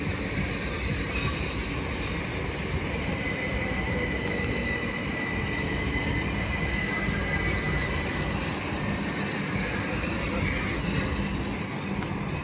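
A Class 701 electric multiple unit, unit 701051, arrives at Clapham Junction bound for London Waterloo, a steady broad rumble of wheels and traction holding at an even level throughout with no voices.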